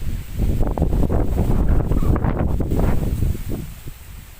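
Strong wind on a mountaintop in Oriental Mindoro buffets the microphone in a loud, continuous, low rumbling roar that swells and eases slightly, with no voices.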